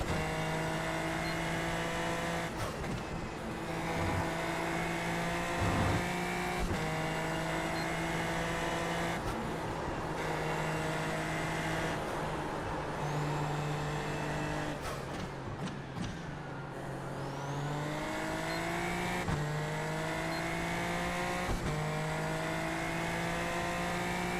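NASCAR race cars lap a racetrack, a continuous layered engine whine with rising and falling pitches as cars accelerate and pass, steady and moderately distant throughout with no talking.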